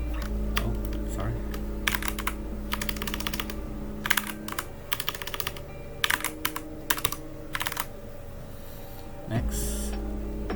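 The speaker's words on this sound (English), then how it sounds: "We type the password." Clattering keystrokes on a computer keyboard as a password is entered during a Proxmox setup, irregular bursts of quick clicks with pauses, close and clear over a low electrical hum.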